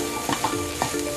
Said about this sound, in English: I'm gonna leave that to simmer a little bit more as well